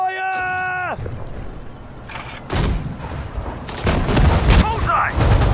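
Gunfire in Sudden Strike 4 during the Allied Battle of the Falaise Pocket, several sharp cracks and booms in separate bursts after a short tonal game cue, fairly loud with brief unit voice lines between.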